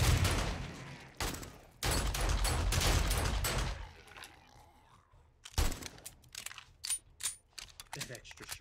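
Gunshots in the video game 7 Days to Die, heavy loud bursts of fire in several separate clusters with short gaps, followed by sharper scattered shots, with some voice activity.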